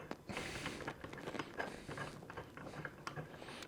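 Screwing a bolt into a scale load cell for a KSBN mounting kit, close-up metallic clicking, ratcheting and creaking in an uneven rhythm with small knocks, no talking.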